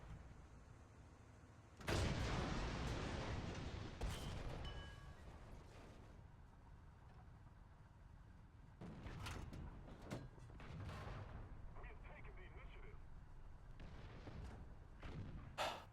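A KV-2 tank's heavy cannon fires in War Thunder: one loud, deep boom with a long rumbling tail, followed by engine rumble, mechanical clanks and later smaller impacts.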